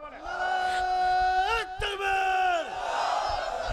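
A crowd at a Bengali Islamic rally shouts "Allahu Akbar" together in loud, sustained unison, several voices swelling into drawn-out chanted calls that rise and fall over about four seconds.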